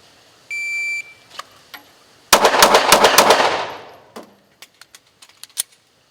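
A handgun is fired during a left-and-right turning drill in a 50-round training session: a timer beep, then a rapid close string of sharp shots, followed by several scattered single shots.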